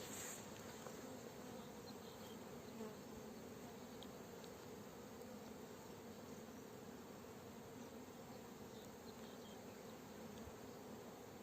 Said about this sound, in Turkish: Bazen arılar dans ediyor ya kanat çırpıyor böyle.